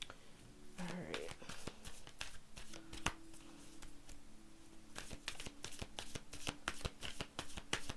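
Tarot cards being shuffled close up, with repeated riffling bursts and papery slaps and a faint crinkle early on, the sharp flicks speeding up toward the end.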